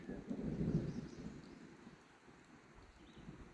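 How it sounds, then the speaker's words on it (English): A low, rumbling roll of thunder swells in the first second and a half, then fades into a dull, distant murmur with faint wind, while the sun still shines. "It's blowing. It's thundering, but the sun is still shining."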